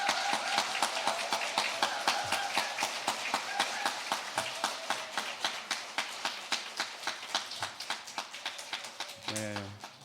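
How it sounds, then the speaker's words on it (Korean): A church congregation claps in a fast, steady unison rhythm to welcome a pastor, with sharp, evenly spaced claps filling the hall and a tonal voice or music underneath. "앞으로 나오실 때 큰 박수로 환영해 주시면 감사하겠습니다."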